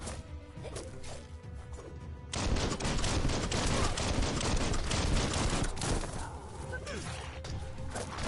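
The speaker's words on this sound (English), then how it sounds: "Bullets everywhere." Dense gunfire in the Biomutant video game, rapid overlapping shots and impacts forming a loud, continuous barrage with crashing hits, and some voice mixed in underneath.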